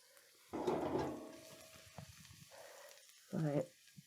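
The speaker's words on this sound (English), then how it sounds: "Here we go for a sizzle." Curry ingredients for a massaman-style root vegetable curry hitting a hot pan: a brief, close sizzle bursts up, fades into soft crackling, then flares again briefly as the pan is stirred.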